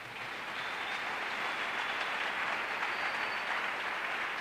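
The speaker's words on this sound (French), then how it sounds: "Acclame Jésus." A church congregation applauds and cheers in acclaim, a dense, steady wash of clapping and voices filling the space for several seconds without a break.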